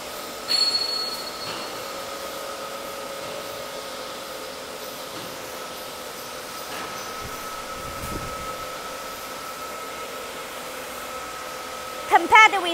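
A simple steel coil sheet slitting line with decoiler, slitting blade, cutting blade and strip wrapper runs with a steady mechanical hum and sustained tonal whine, with brief metallic squeals and clanks near the start and end.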